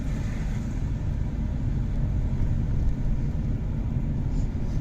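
A car engine during a driving lesson on a test route, a steady low rumble rising slightly as gas is lightly applied and released, close and continuous without speech.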